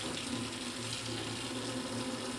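Hot water flows from a tap on the Suðurnes peninsula in Iceland after days without heating water, a steady, even rushing hiss that runs unbroken throughout.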